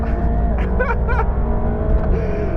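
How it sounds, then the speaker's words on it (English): A Mercedes-AMG GT Black Series sports car engine, 730 horsepower, roars steadily on a track, its pitch rising as it accelerates, with a loud continuous rumble throughout. "And this engine kicking out 730 horses."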